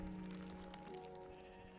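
Sheep in the Minecraft video game bleating once, a short wavering game-sound bleat, clear and close over a steady background hum.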